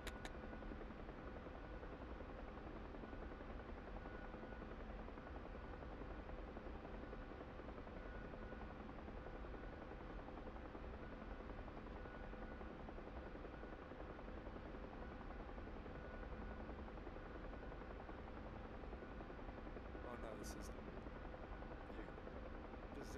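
UH-1H Huey helicopter in flight during a troop deployment in a video game, a steady loud rotor and engine drone filling the whole stretch without a break.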